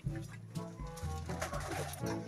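Soft cooing bird calls repeat quietly in the distance, low and rounded, over a faint outdoor background.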